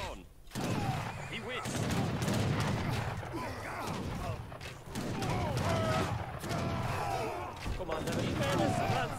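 Battle gunfire in the video game Age of Empires 3, a dense, continuous clatter of musket volleys and mechanical combat noise, loud and sustained throughout.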